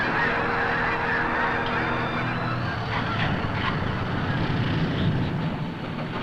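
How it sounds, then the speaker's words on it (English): Canada geese honking in flight over the Swan Lake refuge, a thick layered chorus of many calls from a large flock that carries on steadily over a low rumbling background. "Canada geese also fill the air."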